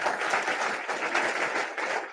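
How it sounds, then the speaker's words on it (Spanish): Audience applause for an elderly honoree at a talk on the 1954 strike, a steady dense clapping that swells slightly in waves, fairly close and without voices on top. "aplausos también."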